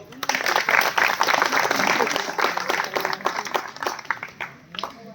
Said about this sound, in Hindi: इनके लिए एक बार ताली बजा।